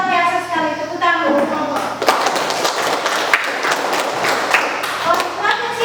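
Applause from a classroom or teacher-training audience, a dense wash of many hands clapping that swells after the first two seconds, with a voice speaking over the start.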